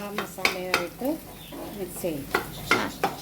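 Egg biryani masala fried in a pan and stirred, with a few sharp spoon scrapes against the pan over a soft background sizzle, partly under a voice.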